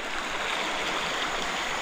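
A calm, clear river fed from Angat Dam flows past a rock-formation campsite in Bulacan, a steady broadband rushing hiss, close and continuous with no voices.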